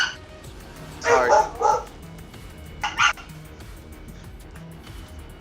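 A dog lets out a quick cluster of deep barks, goes quiet, then gives one more short bark, all fairly close over a low background hum.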